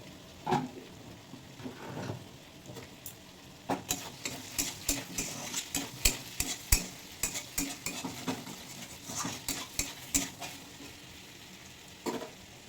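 Vegetables fry in a covered pan, a soft background sizzle broken by a string of sharp spoon-on-metal clinks and scrapes, clustered through the middle and trailing off, with no voices.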